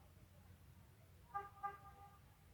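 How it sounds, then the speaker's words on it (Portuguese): Two short car horn toots sound from the street outside a room, faint and distant over a low background hum. "Estão buzinando aqui, ó."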